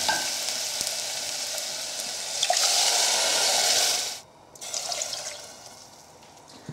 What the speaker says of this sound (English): I'm just going to add my tomatoes now and my red wine.